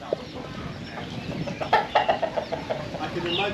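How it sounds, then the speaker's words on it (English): A big rooster clucks in a series of short, close calls through the middle of the clip, with faint background voices and outdoor ambience at a fishing village in Ao Phang Nga National Park. "That's a big rooster, man."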